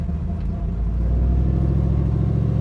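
A 1967 Chevrolet Camaro's engine running while driving, a loud, steady low rumble that swells slightly as the car moves along, with no one speaking.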